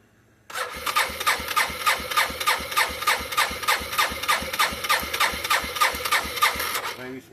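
A small engine catches and starts abruptly, then runs with a steady, rhythmic, rough chatter at close range for several seconds before cutting off.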